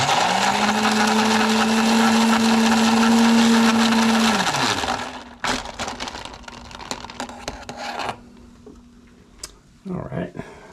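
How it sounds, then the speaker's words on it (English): A blender whirs loudly and steadily, its motor pitch sliding down as it shuts off, followed by scattered ticks, clicks and light handling noises. "So I'm going to use the top-down blender."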